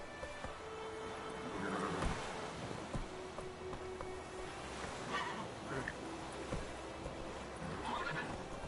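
Roach, the horse in The Witcher 3, whinnies and gallops with soft hoofbeats under wind and surf-like ambience, quiet and fairly steady, with a voice speaking briefly.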